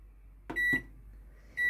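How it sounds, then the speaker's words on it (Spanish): A kitchen microwave oven set to 800 watts beeps as it is programmed and started: two short electronic beeps in quick succession, a pause, then a third beep, loud and near in a quiet room. "lo coloco en el microondas a 800 vatios, que suele ser la potencia máxima de muchos microondas"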